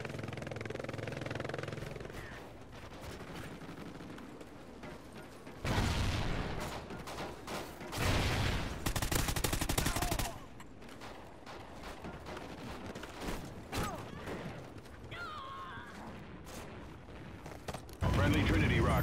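Bolter fire in a video game, heavy bursts of loud, punchy shots coming in separate clusters, with mechanical clanks and ratcheting sounds between them.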